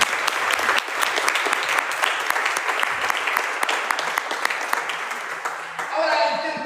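A church congregation claps steadily for several seconds, a dense wash of applause with voices and cheers mixed in, tapering near the end as other sounds rise.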